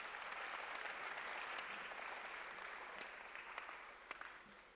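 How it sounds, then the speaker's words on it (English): Audience at a live university event, The Chancellor's Week Abakosem Night, giving a round of applause: faint, distant clapping that holds steady, then thins out with a few scattered claps at the end. "Another round of applause for them."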